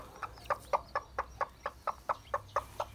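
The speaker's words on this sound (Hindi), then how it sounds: "कितने चूजे निकले हैं दोस्तों" Newly hatched chicks, with a steady series of about a dozen short, evenly spaced peeps close by and fairly soft, with no talk over them.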